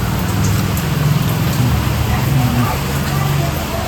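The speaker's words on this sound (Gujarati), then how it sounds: "ને વરસાદ તો હજી ચાલુ જ છે" Heavy monsoon rain pours steadily in Rajkot, a dense continuous hiss of drops on surfaces that stays loud throughout, with faint low background noise underneath.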